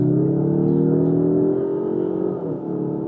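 A 2025 Mazda3 compact car accelerating hard, its engine note a steady, loud drone that rises in pitch and then eases slightly near the end, with no talking.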